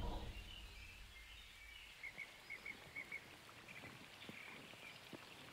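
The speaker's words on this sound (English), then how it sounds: "There's the rain, there's the water flowing" Jungle rain patters amid flowing water, a soft continuous wash of drops with a few faint bird-like chirps in the middle, quiet and distant throughout, nobody speaking.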